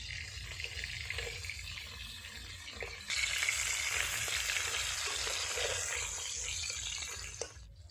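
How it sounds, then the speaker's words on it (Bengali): Parshe fish frying in hot oil, a steady broadband sizzle that jumps louder about three seconds in and stays intense, close and continuous with no talking. "সুন্দর করে লাল লাল করে ভেজে নেব মাছগুলো।"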